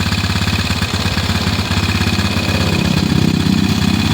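A motorcycle engine runs steadily at idle with a rapid, even pulsing throb, close and loud throughout, with a slight rise in intensity near the end.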